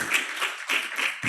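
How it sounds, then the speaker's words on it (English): Audience at a talk about simulation training and infant care breaks into a short burst of applause, clapping swelling in uneven waves and briefly dipping before picking up again, fairly close and with no talk over it. "A round of applause for that."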